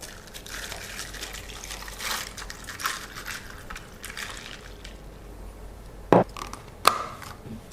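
Steady rushing, trickling water runs throughout as plain water is poured into a cup of Spanish latte mixture, with two sharp clinks near the end.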